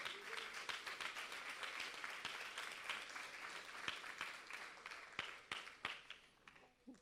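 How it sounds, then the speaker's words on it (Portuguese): A church congregation claps together during a Portuguese-language service, a fairly quiet, rhythmic patter of many hands with distinct individual claps standing out, gradually thinning and fading toward the end. "Vamos aplaudir por esse versículo."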